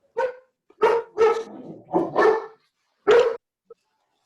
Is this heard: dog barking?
yes